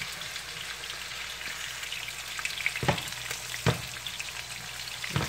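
Salmon pieces about an inch and a half thick frying in a pan, a steady close sizzle with a few sharp pops and stirring clinks, no talking.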